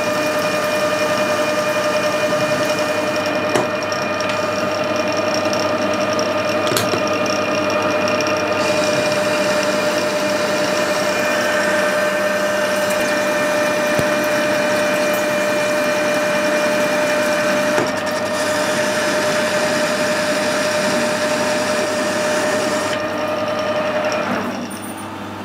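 A lathe or milling machine cuts material off a broken Morse taper drill shank, a loud steady mechanical whine and hum that runs unbroken for about twenty-five seconds with faint scraping ticks.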